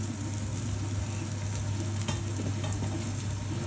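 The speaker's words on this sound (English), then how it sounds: "So we add the onions in" Onions dropped into a hot pan of browned meat for a Bolognese sauce, giving a dense, steady close-up sizzle with some stirring, no voices.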